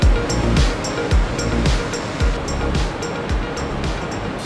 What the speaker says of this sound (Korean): 이렇게 계곡을 보고 물소리 들으면서 계속 이런 풍경을 보면서 걷는 길입니다.